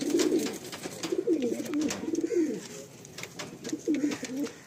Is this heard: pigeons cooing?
yes